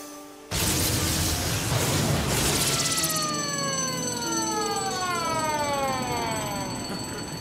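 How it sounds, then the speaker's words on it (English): After a sudden loud onset, an electronic alarm blares with sweeping, falling siren tones and a ringing bell, loud and continuous, slowly fading slightly, in the Power Rangers Turbo power chamber. "these alarms aren't so false anymore."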